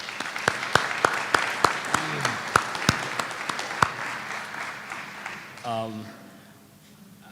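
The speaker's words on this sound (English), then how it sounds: "If we give him a round of applause." Applause for the mayor at a bill-signing ceremony with the governor, a modest scattering of distinct claps that thins out and fades, followed by a voice beginning to talk as the room quiets.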